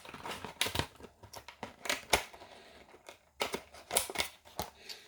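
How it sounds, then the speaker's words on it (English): Scissors snip through the plastic blister of a 2022 diecast car package, with crisp close clicks and crinkling plastic in irregular bursts and short pauses. "I just cut the blister"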